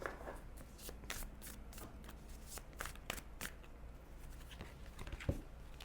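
Tarot cards drawn and shuffled by hand in a pick-a-card reading, with soft papery flicks and slides in quick irregular bursts and a single firmer tap near the end, close and quiet over a low steady hum, with no speech.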